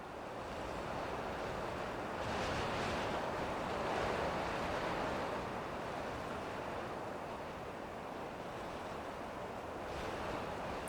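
Ocean waves wash onto a beach on the Isle of Barra, a soft continuous surf roar with gentle swells and some wind, heard at a distance and fairly quiet.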